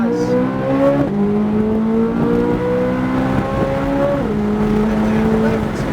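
Supercar accelerating hard on a coned driving course, engine climbing in pitch through several upshifts with brief drops between gears, loud and close from inside the cabin.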